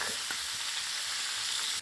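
Silesian pork ribs frying in a pan give a loud, steady, close sizzle with dense crackling throughout and no voices.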